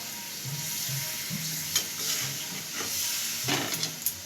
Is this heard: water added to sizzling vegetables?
yes